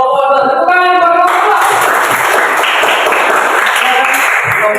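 Classroom group claps for presenting group 2, a dense burst of applause following a brief tonal sound, sustained evenly throughout.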